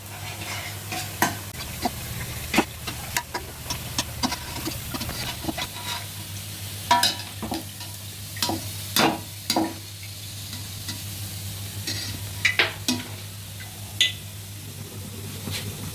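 Wheat flour biscuits fry in hot oil in a pan with a steady low sizzle, broken by repeated sharp clinks and scrapes of a spoon stirring and lifting them, each fairly close. Nobody speaks.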